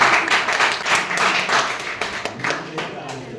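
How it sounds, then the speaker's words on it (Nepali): An audience claps for honorees at a community felicitation ceremony, the uneven clapping continuing throughout with talking mixed in. "कृपया आपको साथियों को लागि ताली बजाइदिनु होला।"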